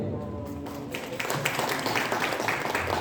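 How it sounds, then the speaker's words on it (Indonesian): An audience at a Kurikulum Merdeka teacher training session breaks into applause, which starts thin and swells into steady clapping from a crowd in a hall, fairly faint overall. "Beri tepuk tangan buat ini."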